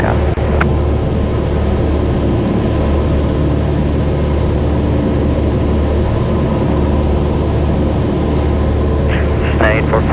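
A Cessna 172 single-engine airplane in flight, its engine and propeller making a loud, steady, unbroken drone for the whole stretch, with radio voices speaking faintly over the cabin noise.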